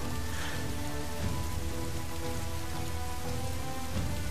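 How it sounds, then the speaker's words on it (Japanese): Steady, dense rain pours down in the video game Dynasty Warriors 7, a continuous loud hiss of falling water with faint low rumbling underneath throughout. "それにこの長雨、敵はきっとこれを使ってくると思う。"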